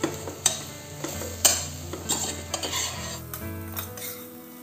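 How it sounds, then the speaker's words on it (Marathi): Soya chunks sautéed in masala over a high gas flame for soya chunk biryani, with a spoon scraping and clanking against the pan in irregular strokes over a steady close sizzle. "आता हे आपण 2-3 मिनिट छान मसाल्यात परतून घ्यायचे आहे"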